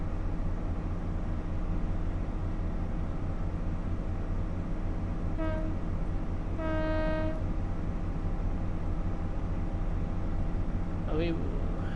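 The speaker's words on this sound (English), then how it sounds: "The horn sounds different." Train horn in the video game Train Sim World 6 on a Thames Valley branch line, two blasts, a short one then a longer reverberant one, over a constant loud engine rumble, followed by a brief squeal.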